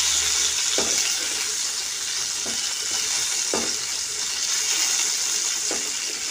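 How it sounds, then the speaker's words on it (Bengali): Fish frying in hot oil as its second side cooks, a loud close sizzle that runs steadily, broken by a few soft knocks from stirring or turning. "মাছ এক পিঠ ভাজা হয়ে গেছে, আর এক পিঠ ভেজে নেব।"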